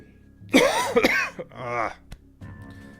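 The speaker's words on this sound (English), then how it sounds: "Coughing, yeah, all the coughing. It's not helping." A person coughs and clears their throat, a few harsh, close bursts in quick succession followed by a brief rasp, with a short voiced sound between them.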